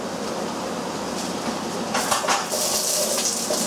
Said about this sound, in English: bit of oil in the pan, and add your onions in